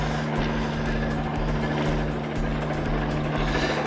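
Aircraft droning overhead along a hiking trail, a steady low engine rumble that persists at moderate loudness across the whole stretch with no one talking.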